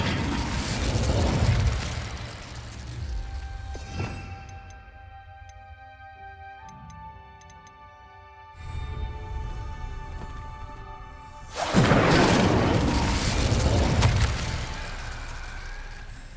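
A fire spell from Hogwarts Legacy bursts with a loud whooshing blast that fades into a quiet, tinkling magical stretch with soft ticking, then a second roaring burst of flame swells and holds near the end.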